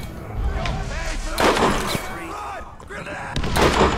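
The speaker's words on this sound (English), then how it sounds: "This might be a perfect time for a grenade, you know?" Borderlands grenade blasts and gunfire, a few heavy thumping booms with sharp cracks amid busy game noise, loud and close, partly under overlapping voices talking.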